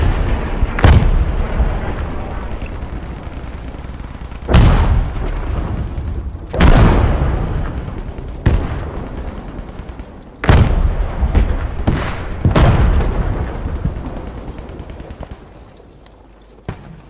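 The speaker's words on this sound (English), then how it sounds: "I hear the shells firing in the distance" Artillery shells fire and land in a video game battle, with about eight heavy booms at irregular intervals. Each deep blast has a rumbling tail, and the booms sound moderately distant over constant background din.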